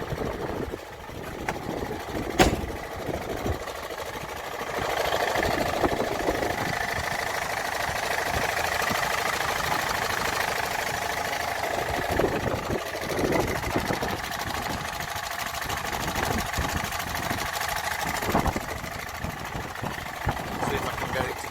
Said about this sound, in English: when the engine starts to warm up, you can hear it now just knocking away